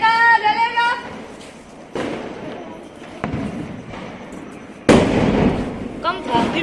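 Firecracker bomb lit and going off outdoors among excited people, with a sharp burst-like bang near the middle and another loud crack later, children's chatter and shouts around it.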